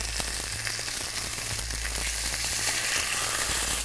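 A steak sears in a hot pan with a loud, steady hiss and crackle, packed with small spattering pops, close and constant throughout.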